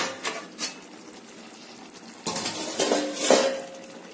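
A metal lid comes off a cooking pot of chickpea and brinjal gravy: two light clinks, a pause, then a louder metallic clatter and scrape with a brief hiss, close and with no voices.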